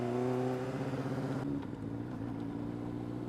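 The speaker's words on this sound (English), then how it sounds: "First, we're going to do just a regular, the way I learned how to downshift." A Honda CBR600RR engine revs, then drops sharply in pitch during an ordinary downshift from third gear. The engine tone stays steady and close after the shift.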